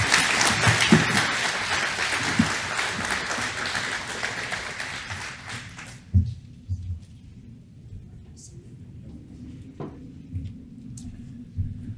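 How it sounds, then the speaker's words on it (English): A seated audience at an investment forum held at the Indianapolis Motor Speedway applauds loudly and steadily for about six seconds, then the clapping fades into the room's low murmur with a few scattered knocks. "Another applause, everybody,"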